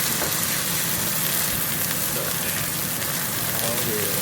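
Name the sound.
New York strip steak searing in a wok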